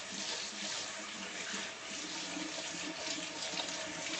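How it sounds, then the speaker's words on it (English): Water runs from a kitchen tap during handwashing, a steady close hiss and splash that continues without a break. "Now I'm going to wash my hands."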